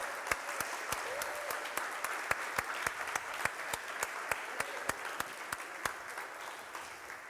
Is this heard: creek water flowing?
no